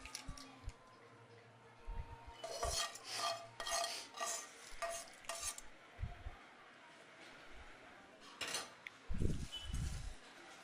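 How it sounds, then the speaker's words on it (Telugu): Tamarind rice being mixed with its tempering by hand in a bowl, soft scraping and stirring strokes in irregular bursts, quiet and close, with occasional low bumps. "ఇప్పుడు మొత్తం బాగా కలిసేలాగా రైస్ని మిశ్రమాన్ని బాగా కలుపుకోవాలి."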